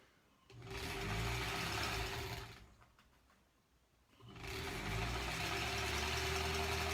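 A sewing machine stitching quilt strips for a granny squares quilt, running in two steady mechanical bursts separated by a short pause, loud and close with no talking.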